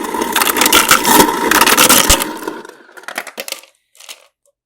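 A rush of ice cubes clattering and crunching into a large cup, loud and close for about two seconds, followed by a few scattered settling clinks that fade into silence.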